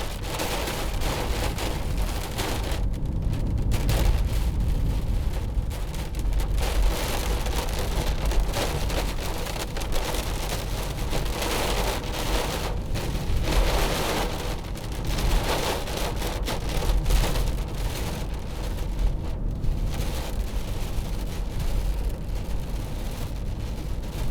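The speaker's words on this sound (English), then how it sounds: "The rain bouncing off." Steady rain drums on a 2015 Mercedes-Benz C200 CDI car, a dense, constant patter with a low rumble underneath and no voices.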